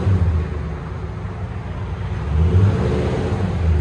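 A 2014 Toyota Tundra 5.7L V8 with a Flowmaster Super 40 dual exhaust revs steadily, a deep, loud rumble that rises briefly as the throttle is pushed higher, with no talking over it.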